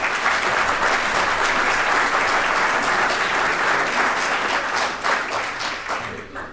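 Audience at the 2010 ACSA Administrators Conference lecture gives dense, sustained applause that fills the room, then fades toward the end.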